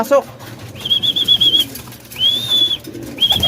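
Pigeons land nearby in a series of quick wing flaps, mixed with several sustained high whistled tones and brief soft sounds that may be a voice.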